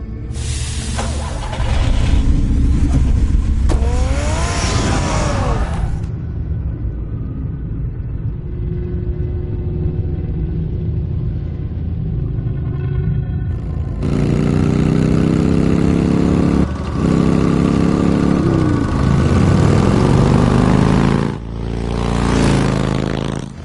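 A car engine in a Batman video game cutscene rumbles at idle, then revs and pulls away, with a steady mid-pitched drone that swells and shifts through several surges, loud and close throughout.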